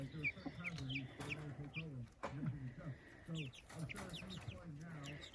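Hens and baby chicks clucking outdoors on grass, steady close chatter of soft clucks and peeps layered over one another, with a person talking quietly underneath.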